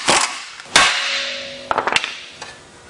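A hammer strikes a motorhome's outer tie rod end to break the taper loose, with several sharp metallic blows, two loud hits early and a quicker cluster of smaller knocks after, close by in a workshop.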